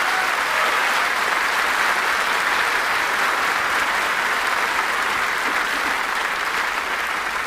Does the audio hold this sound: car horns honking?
no